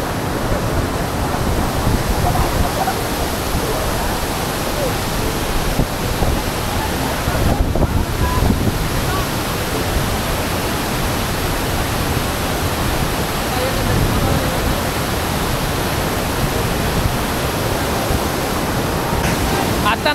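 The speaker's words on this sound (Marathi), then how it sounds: "हा आहे तो इथं वॉटरफॉल आहे एकदम" Heavy, steady rush of a waterfall at Gupt Bhimashankar, a dense continuous roar of falling water mixed with wind buffeting the microphone, loud and unbroken throughout.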